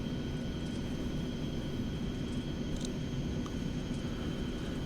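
Jet engines of an airliner taxiing in the X-Plane flight simulator game, with engines small for the size of the airplane. They make a steady, unbroken roar and whine that holds at the same loudness throughout.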